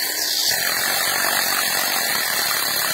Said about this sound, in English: You get you a 3/8 drill bit on a drill.